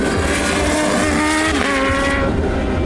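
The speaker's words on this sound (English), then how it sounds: "A 1000cc supercharged inline-4 with 200 PS and 101 foot-pounds of torque" Kawasaki Z H2 with its 1000cc supercharged inline-four revving hard, a loud, steady engine roar that climbs and falls in pitch as it passes close by.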